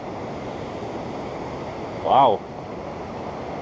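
Steady broadband roar of a raging river rushing past ancient remains, continuous and fairly loud throughout, with wind noise on the microphone and one brief spoken exclamation over it.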